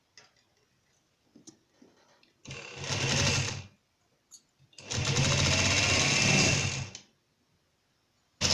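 A sewing machine stitching trouser fabric runs in two close bursts, one short and one longer, each a rapid even whir of the needle, separated by brief pauses with faint handling clicks.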